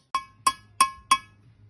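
Four gentle metallic taps, evenly spaced about a third of a second apart, as a socket is tapped to drive a part home on a 1975 Series 3 Land Rover under restoration; bright, ringing clinks close up with no talking.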